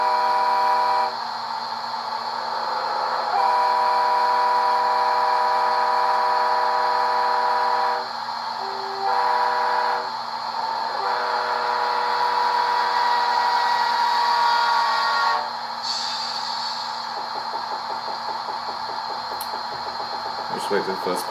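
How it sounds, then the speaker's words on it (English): A Rapido RDC model train's sound system plays its slow Doppler horn: sustained horn chords that bend downward in pitch over a steady hum of the idling diesel, clear and close. "We'll sound the Doppler horn. This is the slow Doppler horn."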